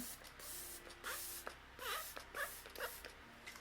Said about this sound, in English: I'm just going to finish off it with some Glam Glow setting spray.